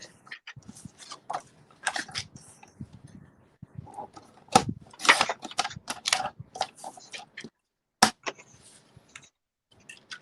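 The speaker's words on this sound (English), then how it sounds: "I'm going to just trim a shorter piece." A paper piece for a handmade card is trimmed with a paper trimmer, heard as irregular close clicks, taps and short scraping slides separated by quiet pauses, with no talk.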